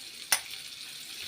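Shredded cabbage drops into hot oil in a pan for veg momos, giving a sudden sharp sizzle burst that settles into a steady bright frying hiss.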